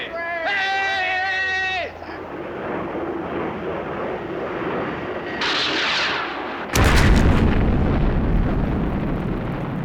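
A live missile explodes during a Thunderbirds mission, with a loud booming blast breaking in late over a background of jet engine roar, soundtrack music and an earlier voice.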